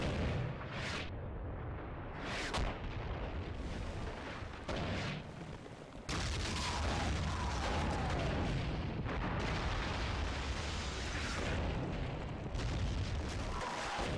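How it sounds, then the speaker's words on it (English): Artillery in a Graviteam combat game pounding a target with high-explosive rounds, a dense continuous barrage of heavy booms and rumbling blasts, loud and sustained with repeated sharp impacts. "They're just going to continue to bombard it, soften up the target."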